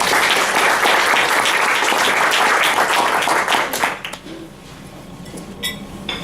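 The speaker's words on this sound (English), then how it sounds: "So let's give them a round of applause." Rotary Club meeting audience clapping loudly and densely for about four seconds before it quickly dies away, leaving room noise with clinking dishes and cutlery.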